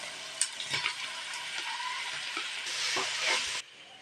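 Onion frying with crushed ginger and garlic and mustard seeds in a pan for chicken curry, a steady hissing sizzle with scattered clinks and scrapes of a spoon, close, cutting off near the end, no talking.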